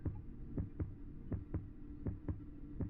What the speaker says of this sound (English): This heartbeat is racing.